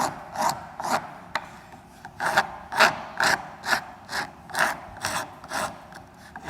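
Rhythmic strokes of a wood rasp scrape across a wooden birdhouse piece hung off a bench edge to round it over, about a dozen close, evenly paced rasping passes with short gaps between them.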